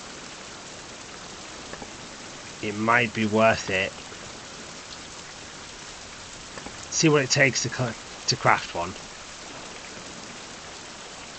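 Steady rain hiss in a survival video game, a continuous even wash of falling drops throughout, with someone talking briefly over it twice.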